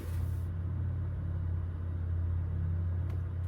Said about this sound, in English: I did find a setting for the electronic sound to turn on, so it'll sound like more like a sports car